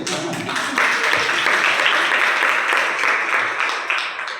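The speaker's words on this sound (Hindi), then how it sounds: "उनके लिए ताली बजाइए ना" A seated audience at a DXN marketing meeting in Boisar claps for a participant, the applause swelling after a brief start and holding as a dense, steady patter close by before tapering off at the end.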